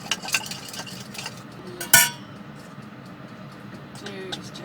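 Cutlery clinking and scraping against a dish while sauce is mixed over salmon, light irregular taps with one sharp louder clink near the middle, under a quiet room background.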